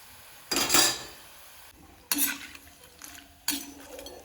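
Dried bitter gourd slices being fried and scooped out of a pan, with three separate bursts of metal scraping and clinking against cookware set apart by quiet gaps and a low background sizzle.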